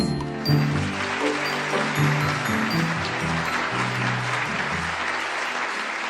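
Audience applause at the start of a talk on science and horses, steady broadband clapping filling the room for the whole stretch, with a low musical or tonal hum underneath.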